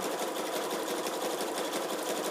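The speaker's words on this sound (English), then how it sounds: "you're going to start to zigzag stitch all of your pairs together" A sewing machine zigzag stitching pairs of fabric strips together runs steadily at close range, its rapid needle strokes forming an even, continuous mechanical whir with no talking.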